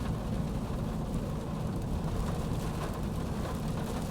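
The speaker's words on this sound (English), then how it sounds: "because it's raining right now" Rain drums on a Ford F-150 Raptor while driving, a dense, steady low rumble of water and road noise filling the cabin, faint and continuous with no talk over it.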